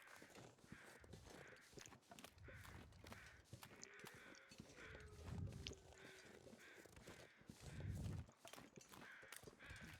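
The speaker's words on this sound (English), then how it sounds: "Just kind of following the sound of the crows." Crows caw repeatedly in the snowy wilderness of the survival game The Long Dark, steady rhythmic calls at moderate distance, with crunching footsteps moving along beneath them.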